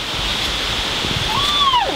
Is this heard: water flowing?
yes